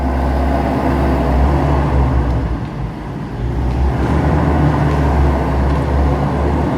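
Ford Mustang GTD in a warehouse, its engine running as a loud, steady low rumble throughout, dipping briefly and then swelling back up.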